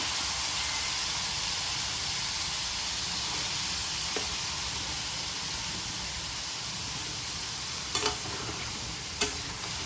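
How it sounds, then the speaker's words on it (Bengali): Potatoes frying in mustard oil in a pan, a steady, soft sizzle and hiss that runs throughout with no talk, broken by a few brief clinks near the end. "আলুটা দিয়ে দিচ্ছি এখন, আলুটাকেও ভেজে নিচ্ছি।"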